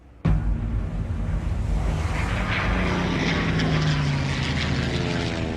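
Fighter plane engines roar overhead over the carriers at the 1942 Battle of Midway, kicking in abruptly and staying loud with a sustained propeller drone and a slowly falling pitch as the planes sweep past.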